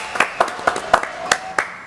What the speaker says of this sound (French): Applaudissements pour Laurent de Funès